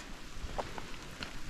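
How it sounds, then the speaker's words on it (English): Steady rain falls around a two-wheel-drive Chevy C20 pickup on a slick hillside road, a soft continuous patter with a few louder drops standing out, fairly quiet and without any talking. "So, it's raining."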